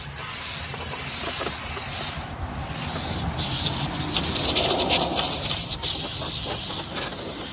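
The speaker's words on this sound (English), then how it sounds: "this isn't really a power washer, but it does have a really tiny point and an easy shut off, and it's quiet" A small, quiet pressure sprayer with a fine tip hisses steadily as it sprays cleaner onto cabover truck shifter parts, with brief pauses and rubbing sounds mixed in.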